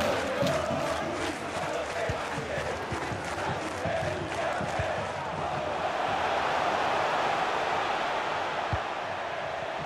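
Stadium crowd noise from the FIFA 23 video game during a Ponte Preta versus Atlético-GO Brasileirão Série B match, a continuous loud roar with rising chants, steady throughout.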